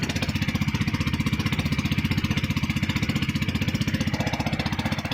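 A 15HP gas engine on a Filipino fishing boat runs close by with a fast, even, pulsing putter, loud and continuous for several seconds with no voices.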